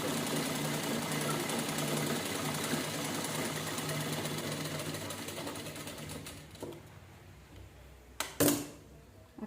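A sewing machine stitches a princess blouse in a fast, steady whir that runs loud for about six seconds, then slows and stops, followed by a few short bursts.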